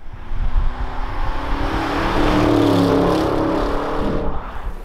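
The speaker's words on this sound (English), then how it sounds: "So I think it sounds better when you just drive by." A 2021 Audi RS6 Avant wagon with a twin-turbocharged 4-liter V8 of about 600 horsepower drives past close by, its deep engine roar swelling to a peak mid-pass and then receding.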